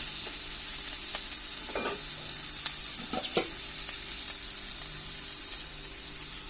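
Spices sizzling in hot oil in a pan for molai shutki with brinjal and beans, a steady close hiss broken by a few scraping stirs, no speech.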